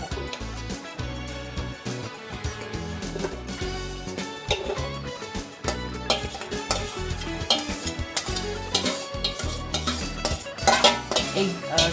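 Marinated mutton and its gravy scraped into a pressure cooker, with repeated clinks and clatters of a spoon against metal pans, close and steady throughout.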